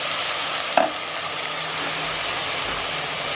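Chicken frying in a pan for a Diwali home lunch, a steady close hiss of sizzling oil with one brief clink of a utensil near the start.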